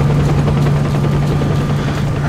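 Continuous loud rotor thrum of a helicopter passing overhead in the S.T.A.L.K.E.R. mod Reborn game, a steady low drone with fast blade chop and no talking.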